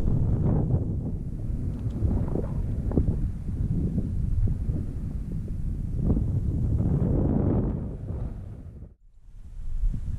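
Steady wind buffets the microphone at a lakeside during trout fishing on Lake Eucumbene, a constant low rumble that swells and eases, with a brief lull near the end.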